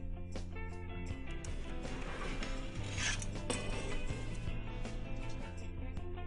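Plastic and metal parts of a Logan 750/760 mountboard mat cutter clack, slide and click in quick, irregular bursts as pieces are lifted off and adjusted, fairly faint and with no talking.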